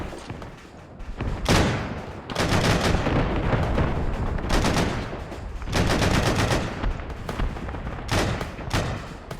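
Automatic weapons firing in the military video game Arma 3, loud rapid bursts of gunfire repeating in several long strings with short pauses between them, no talk.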